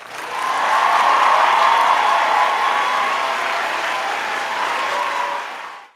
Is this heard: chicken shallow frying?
no